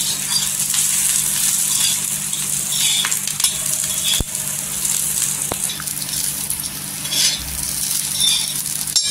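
Steady hiss and crackle of green chillies and garlic frying until blistered and golden in a hot pan, with a couple of sharp clinks partway through.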